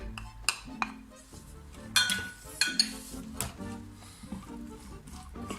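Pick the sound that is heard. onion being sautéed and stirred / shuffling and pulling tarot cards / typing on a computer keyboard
onion being sautéed and stirred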